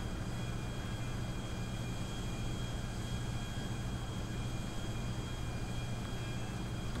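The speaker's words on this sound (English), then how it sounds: "Alright, another plane's landing" Steady, unbroken roar of an airplane landing in GTA 5, a broad engine and air rush with faint high tonal whine running throughout at constant loudness, no talking.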